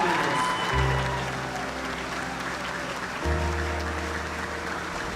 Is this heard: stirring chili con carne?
no